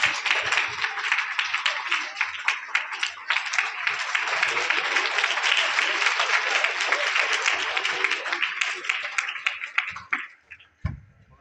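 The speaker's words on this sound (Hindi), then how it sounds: "कृपया जोरदार ताली से इनका भी स्वागत" A school seminar audience claps loudly and steadily to welcome a class 8 student speaker, a dense sustained applause that cuts off abruptly near the end.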